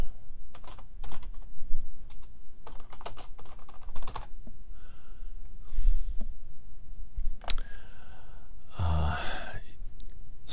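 Close keyboard typing comes in short bursts of clicks and taps with gaps between them, and a brief louder rustle or breath near the end.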